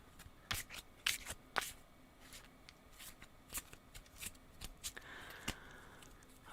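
Tarot cards being shuffled in a quiet ASMR setting, soft papery riffles and sharp taps recurring irregularly over several seconds, close and gentle with no talking.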